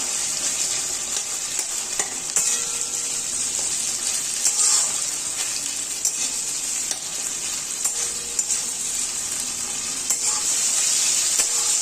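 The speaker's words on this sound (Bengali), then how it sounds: "টমেটোটা দিয়ে পরে একটুখানি নাড়তে হবে যতক্ষণ পর্যন্ত না টমেটোটা গলে আসছে" Steady sizzling of tomatoes frying in a pan, with repeated scrapes and clinks of a spoon stirring throughout, close and fairly loud.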